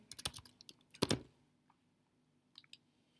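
Quiet clicks of typing on a computer keyboard, a short cluster of keystrokes followed by a pause and a few faint taps, alone.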